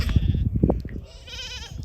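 Sheep bleat on a farm in a few short, overlapping calls, close and fairly loud over a brief rustling background.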